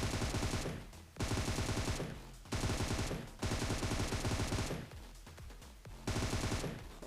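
Rapid automatic gunfire in a mobile shooter game as a full magazine is emptied, loud sustained bursts broken by a few short pauses, with no talk over it.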